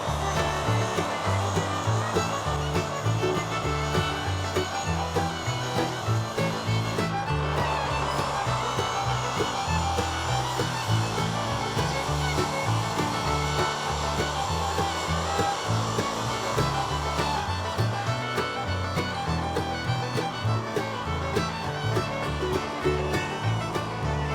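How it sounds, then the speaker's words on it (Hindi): An angle grinder with a flap disc sands wood for raised garden beds, a loud, steady abrasive rasp and whirr running continuously and close up with no pauses. "मेरी तरह एंगल ग्राइंडर, जिसे आम बोलचाल में ग्राइंडर भी कहते हैं, के फ्लैप डिस्क से उन्हें घिसना चाहिए"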